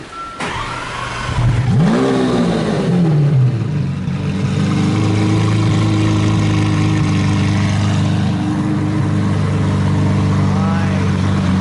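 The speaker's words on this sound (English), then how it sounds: "All right, cold start, people." Lamborghini Centenario engine cold start, a sharp crank and catch that sweeps up into a loud rev, then settles into a strong, steady high idle with a few lighter rev blips, people talking over it.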